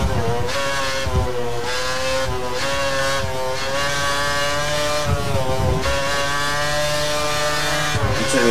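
Formula 1 race car engine from the F1 2013 video game, a loud continuous high-pitched whine rising and falling through repeated upshifts and downshifts, with no talking over it.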